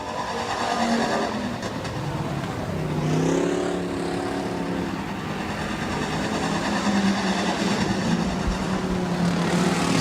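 Sportsman class race cars circle Rapid Speedway in a heat race, their engines a steady, loud roar with a rising and falling whine as cars pass, and no voice over them.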